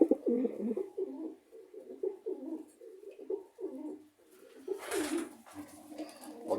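Pigeons coo in soft, repeated throaty phrases, steady and fairly close, with a brief rustle of movement toward the end; no voices.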